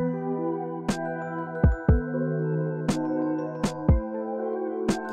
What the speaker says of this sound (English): So let's lay down a simple drum pattern.